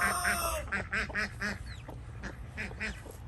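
Several ducks quacking close by in a backyard duck enclosure with a pool, a rapid series of loud nasal calls over steady background noise.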